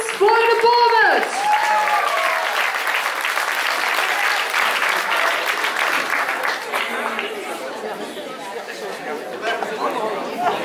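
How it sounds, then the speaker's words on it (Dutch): An audience at a playback show gives sustained applause, with a loud voice rising over the start before the clapping continues steadily under crowd chatter and gradually thins. "Dames en heren, een applaus voor de Bobbes!"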